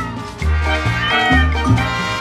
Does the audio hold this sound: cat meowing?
yes